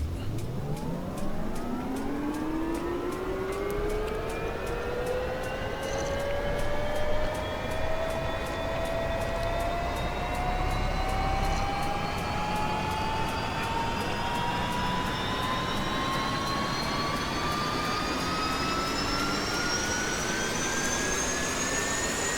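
A Huey UH-1 helicopter's turbine starts up in a DCS flight simulator, a steady loud whine climbing slowly in pitch over twenty seconds as the engine spools up, with a constant rumbling roar beneath and no voices.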